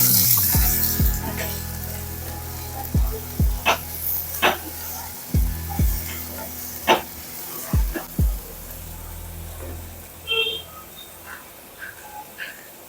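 Finely chopped onion hits ginger-garlic paste frying in a pan for a field-bean (val) usal, giving a steady sizzle broken by a series of sharp spatula clinks and scrapes.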